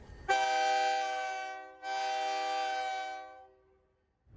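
A passenger train from Utica arriving in the small village of Tupper Lake sounds its horn in two long, loud, clear blasts, the first about one and a half seconds and the second slightly longer, with quiet in between.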